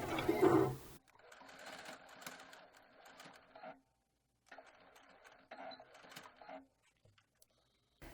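A sewing machine stitches a ruffled skirt seam in two steady bursts of rapid mechanical whirring, separated by a short pause and ending in a few scattered clicks, with no talking.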